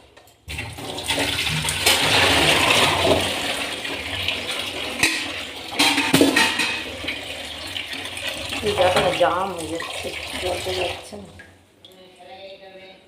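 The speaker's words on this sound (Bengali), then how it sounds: "এইটা হলো ওই ঢাকনাটার আর হাঁড়িটায় জল আছে এই জলটা দিয়ে জলটা ফেলে দেবো" Water from a cooking pot and its lid is poured out in a home kitchen, a steady close splashing gush lasting most of the clip before it stops, with a voice briefly audible near the end.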